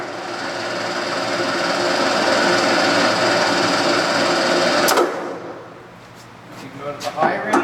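Standard Modern 15x50 metal lathe running at low speed, about 80 RPM: a steady whirring mechanical drone that cuts off abruptly after about five seconds, followed by a few light clicks and clunks.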